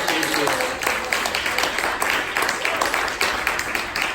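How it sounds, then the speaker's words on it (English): Audience applause for Jeff, Kenitha and the Infinity Center at a Writers in Conversation event, a dense, steady round of many hands clapping throughout, fairly close and loud. "So just one more round of applause for them and all the hard work that"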